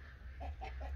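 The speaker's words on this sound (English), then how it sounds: "We got quite a bunch of birds making noise, don't we?" Chickens cluck faintly in a quick run of three short clucks over low, muffled background noise.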